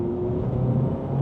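Turbocharged Subaru BRZ / Toyota GR86 under way, a steady low engine rumble and road drone with a faint tonal whine, brief and loud, no voices.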